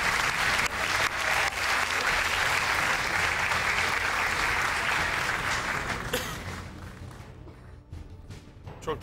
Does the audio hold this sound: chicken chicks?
no